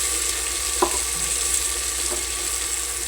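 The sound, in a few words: ginger-garlic paste and turmeric sizzling while being stir-fried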